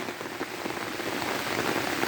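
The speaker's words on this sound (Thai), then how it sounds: "ฝนแรงจริงครับ ฝนเยอะ" Heavy rain pours down steadily over a flooding durian orchard, a dense, loud, continuous hiss with scattered close drops pattering throughout and no voices.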